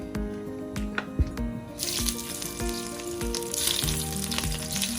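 Cheese meatballs frying in hot oil for spicy meatball pasta, a loud crackling sizzle that swells after the first couple of seconds, with repeated utensil knocks and clatters throughout.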